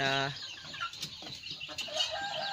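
Chickens cluck and chatter close by after release from a concrete floor into a wide open field, with a short harmonic call at the start and scattered clucks throughout.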